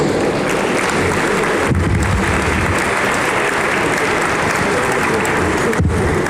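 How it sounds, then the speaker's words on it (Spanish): A conference audience at a smart cities congress applauds loudly and continuously before a keynote on public security, dense clapping from a packed hall without pause. "Señoras y señores, brindemos un fuerte aplauso para escuchar la conferencia magistral"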